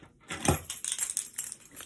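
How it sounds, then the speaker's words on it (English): House keys jangle and clink in a quick handheld shake, a bright metallic rattle that starts with a strong jingle and continues in several smaller bursts close to the listener. "Can't go anywhere without my house key, right?"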